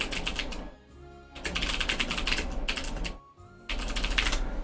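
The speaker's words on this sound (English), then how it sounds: "which is why you hear me typing in the background now" Computer keyboard typing during a PC game session, rapid clattering keystrokes in bursts separated by short pauses, close and fairly quiet.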